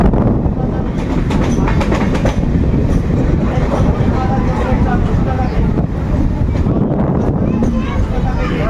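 A new MEMU local train running on the Bankura to Howrah route, heading toward Howrah, fills the space with a steady loud rumble and rattle from inside the carriage, constant throughout with no breaks.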